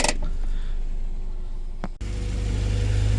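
A Mini car engine idles during brake work in a garage, holding a steady low running drone with a short dip midway before it continues at the same level.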